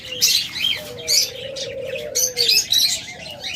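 Pet doves and cockatiels kept in pairs for sale chirp and tweet in bright repeated bursts over a soft, low cooing that runs through the middle, fairly close with no talking.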